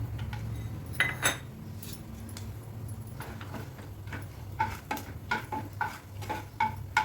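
Peanuts fry in a spoonful of oil in a pan as upma is prepared, giving a soft steady sizzle under repeated clinks and scrapes of a metal spoon stirring, with bursts of clatter near the start and end.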